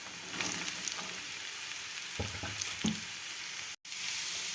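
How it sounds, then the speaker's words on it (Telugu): Sliced carrots with onions sizzle softly and steadily in a frying pan, with a couple of brief stirring clatters partway through and a momentary dropout near the end. "ఇది ఇలా క్యారెట్ ఇలా ఫ్రై చేస్తాను నేను"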